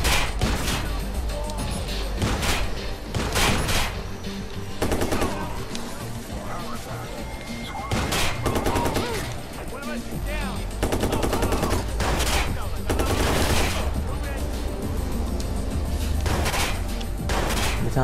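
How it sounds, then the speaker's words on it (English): Gunfire in the Watch Dogs video game as a man is shot: dense, loud bursts of rapid shots and single cracks repeat throughout, with someone talking over the shooting. "Şu adamı vurayım önce"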